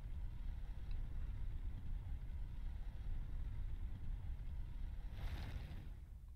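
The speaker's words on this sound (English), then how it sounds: "And then we ride the elevator." A faint, steady low rumble and hum from an elevator ride in the video game Elden Ring, continuous with no talking and a short brighter whoosh near the end.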